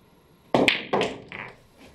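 A pool cue strikes the cue ball for a slight cut shot, and a few sharp clicking knocks follow in quick succession. Each knock fades out, and the last ones are quieter.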